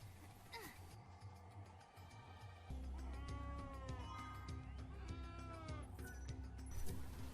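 Sheep bleating in the Final Fantasy XIII-2 video game, a few wavering cries over a steady game music bed, with the background growing louder partway through.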